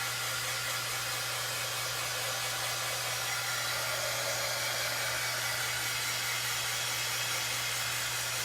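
A hair dryer blows steadily at close range to dry a painted polka dot Easter chicken craft, making a loud, unbroken whooshing hiss with a low motor hum underneath and no talking.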